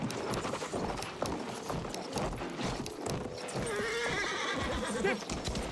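A horse in the video game Battlefield 1 gallops with rapid clip-clop hoofbeats, neighs and whinnies loudly amid battle noise, and no voices are heard.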